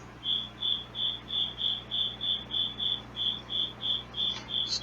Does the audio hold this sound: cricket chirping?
yes